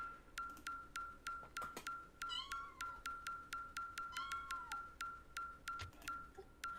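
A hungry cat gives two faint, drawn-out meows beneath a steady series of bright, evenly repeating pings, all at low volume.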